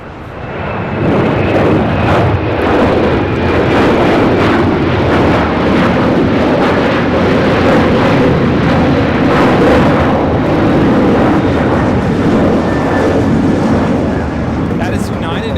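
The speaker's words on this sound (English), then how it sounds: "up next is a 777 freighter," A China Southern Cargo Boeing 777 freighter takes off at Los Angeles International Airport, its loud, steady jet roar filling the whole stretch without letup.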